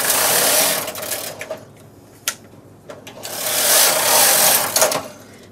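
A knitting machine carriage swishes across two rows, two long loud sweeping passes separated by a pause with a few clicks and knocks, close and alone.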